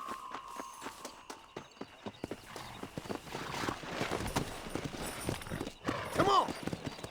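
Horse hooves clip-clopping at a quick gait in the Western video game Red Dead Redemption, steady rhythmic thuds building louder toward the end, where a short whinny breaks through, with talk and game ambience mixed in.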